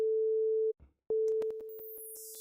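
A pure sine tone at A4 from a Rob Papen Blue-III software synth, held steady, broken by a short gap, then repeated while soft clicks and a rising high-pitched layer come in toward the end.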